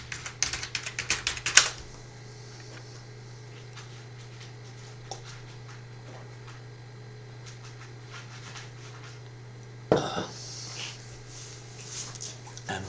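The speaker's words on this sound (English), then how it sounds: "Okay, and then we go and type dbeaver right here." Typing on a computer keyboard while a web address is entered in Firefox, with a flurry of quick clicking keystrokes at the start, sparse isolated taps afterward and another short burst near the end over a steady low hum.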